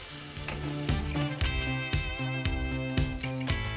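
Red pepper cubes and tomatoes sizzling in a pan while being stirred, a close, continuous fry with regular scraping strokes and knocks.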